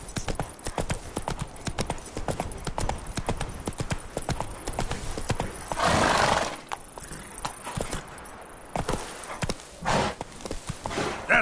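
Hooves of Roach, the horse in The Witcher 3, clip-clop in a steady walking rhythm throughout, with a brief louder burst midway and a voice speaking over parts of it.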